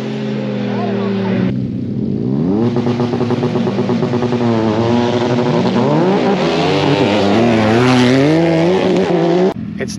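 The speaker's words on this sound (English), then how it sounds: "We are out at the drag strip. We've got Rather Be Welding against DirtGearTV on their homemade buggies." Homemade buggies drag racing at a strip, their engines roaring loud and close with rising revs through gear changes, a steady blaring drone that cuts off abruptly at the end.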